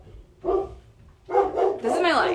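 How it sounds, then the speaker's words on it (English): Dogs bark in short bursts, with a nearer, louder bark and yelps toward the end. A voice briefly speaks among them. "achieving things with dogs barking all the time"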